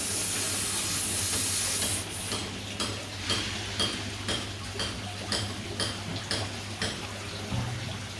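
A spray bottle sprays a Mississippi map turtle's damaged shell: one long hiss, then a string of short, evenly spaced spritzes close by, with no talking.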